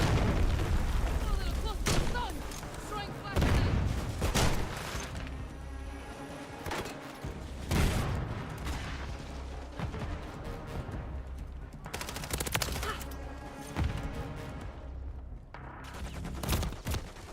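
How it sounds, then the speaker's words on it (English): Shooter video game combat with a cruise missile strike: repeated heavy booms and bursts of gunfire, some close and loud, others fainter, scattered irregularly, with brief voices now and then. "Hostiles launched a cruise missile."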